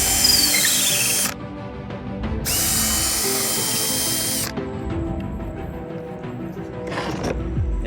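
A power drill drives screws into the homemade cover of an electric log splitter, with loud high-pitched whirring bursts that stop and start several times, then a brief quieter buzz near the end.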